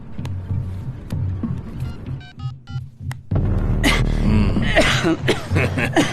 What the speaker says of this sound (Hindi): आपको तो खांसी आने लग गई है